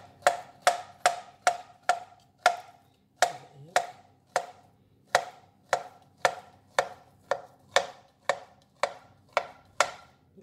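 Knife chopping banana into small pieces on a board, about twenty sharp, evenly spaced chops in a steady rhythm with a brief pause, close and clear, no talk.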